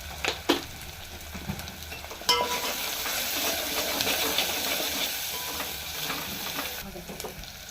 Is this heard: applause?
no